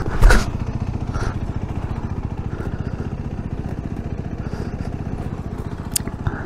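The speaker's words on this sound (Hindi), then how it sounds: "ये देखो बाइक स्किड हो चुकी है" Motorcycle engine on a snowy mountain road during a winter ride in Spiti, chugging in a rapid steady pulse with a loud thump at the start and clattering bits, close and continuous.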